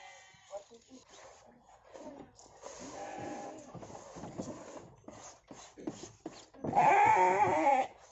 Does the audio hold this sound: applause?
no